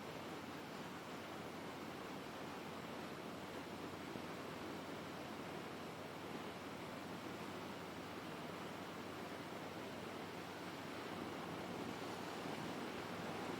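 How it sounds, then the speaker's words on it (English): Steady roaring wind rushing past a rider on an open Harley-Davidson Road King motorcycle, a broad continuous buffeting hiss with no speech over it. "Feels nice to be out in the wind."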